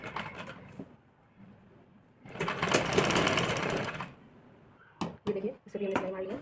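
A sewing machine stitches joined blouse pieces in a sustained burst of rapid mechanical whirring, preceded and followed by shorter stops and starts, with a voice talking in the quieter gaps.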